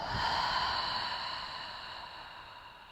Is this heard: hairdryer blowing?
no